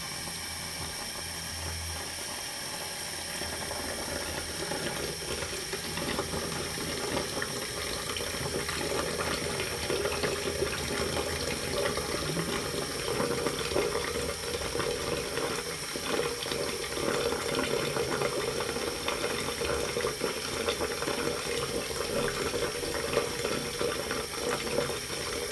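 Tap water runs steadily into a sink while someone washes their face, a continuous close splashing flow with no speech, holding an even level throughout.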